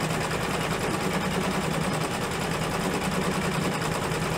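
An embroidery machine works a dense, fully stitched stained-glass Christmas stocking design, giving a continuous rapid mechanical whir with a fine, even rhythm, close and steady with no voices over it.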